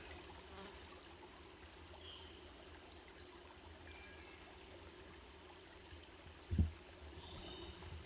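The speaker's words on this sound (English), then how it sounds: "just on the other side of that big boulder down there is a little cascade" A small cascade flows just beyond a large boulder beside a deep pool on a rocky hiking trail, heard as a steady, faint trickling wash throughout, with one brief low thump near the end.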